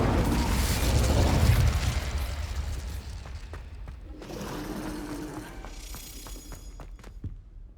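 Spell blasts in Hogwarts Legacy, Confringo and Incendio: a loud rumbling explosion that fades, then a second burst with crackling pops and scattered impacts, no talk.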